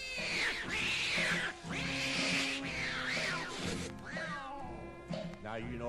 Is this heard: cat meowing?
yes